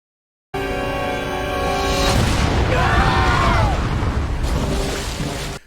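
Deep booming explosions blowing holes in an ice wall in an animated episode, a loud rumbling boom swelling after a sustained tonal opening, with crackling debris and a second burst before it cuts off.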